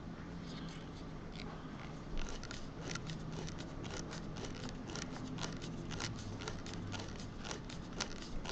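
Scissors cutting through plastic tubing, a steady run of dense, crunchy snips and rustles close up, continuous over several seconds with no talking.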